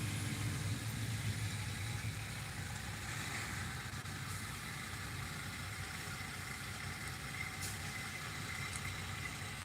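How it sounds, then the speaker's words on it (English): A Caterpillar C15 engine in a 2005 Freightliner Century truck idles steadily, its turbo adding a faint high whine over a continuous low mechanical rumble, heard at a moderate distance with no voices. "You hear the turbo."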